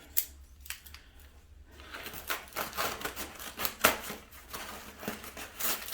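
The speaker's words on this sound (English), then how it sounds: "let me put my scissors back together" Scissors being handled close by, with metallic clicks and snips mixed with rustling and small clattering noises.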